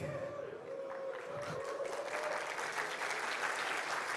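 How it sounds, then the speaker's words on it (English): An audience at a game-development conference morning session gives a polite round of applause, steady and fairly faint, heard from a distance and filling the room throughout. "That is a very polite round of applause."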